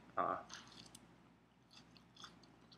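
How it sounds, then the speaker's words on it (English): Close, wet chewing and crunching of a large red Bhut Jolokia ghost chili, with a sharp bite at the start followed by soft, irregular mastication sounds, quiet and alone. "me sitting here just chewing and chewing and chewing until it never stops"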